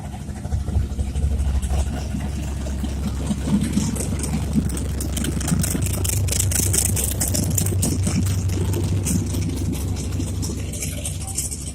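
A big engine in an old car with an automatic transmission idles at an outdoor car show in Iroquois Park, Louisville, Kentucky, a deep, steady rumble close by with faint crowd noise around it.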